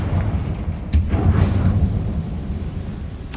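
Confringo, an explosive fire spell cast in Hogwarts Legacy, a deep booming blast with a sharp crack at onset and a long rumbling tail, loud and close amid game effects.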